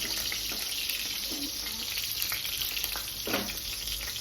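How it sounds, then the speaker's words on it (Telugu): Onions sizzling in hot oil while a chicken fry is cooked, a steady crackling hiss throughout with a few brief stirring scrapes, close and alone without talk. "అండ్ నూనెలో ఆనియన్స్ వేసేటప్పుడు మస్తు భయం అయితే, చుర్రం అంటే నూనె మీద పడుతుంది మస్తు."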